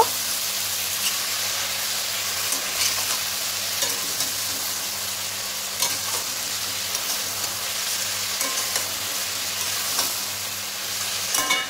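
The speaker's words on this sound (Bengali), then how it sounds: "জিরে গুঁড়ো আর লবণ দিয়ে আমি ভালোভাবে মিশিয়ে নেব। ভালোভাবে একটু কষিয়ে নেব।" Mixed vegetables with taro and potato stir-fried with cumin powder and salt: a constant, fairly loud sizzle under repeated scraping stir strokes, heard alone without talking.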